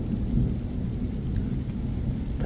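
A strong summer thunderstorm with steady heavy rain pattering on surfaces and a low continuous rumble of thunder, fairly close and unbroken, with no voices.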